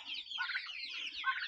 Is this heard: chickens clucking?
yes